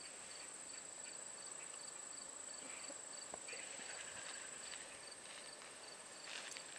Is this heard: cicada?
yes